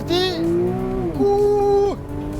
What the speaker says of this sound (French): pied droit à bloc, launch control s'allume, attention je lâche les freins